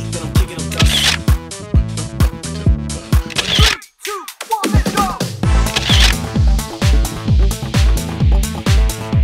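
A camera shutter clicks while someone photographs an advertisement inside a Seoul subway car. Loud, sharp clicks repeat in a fast, rhythmic run, with a short gap partway through.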